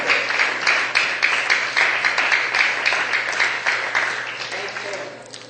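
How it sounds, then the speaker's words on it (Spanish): A church congregation applauds together, a dense steady patter of many hands clapping with rhythmic surges, fairly loud and continuous before tapering off at the end. "Bríndele un fuerte aplauso al Rey de Reyes y Señor de Señores."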